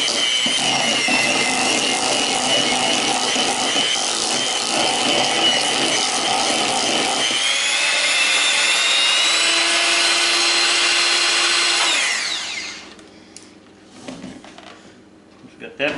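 Electric mixer beating sour cream into blackberry cheesecake batter, a loud continuous whirring drone that cuts off near the end, followed by faint handling noises.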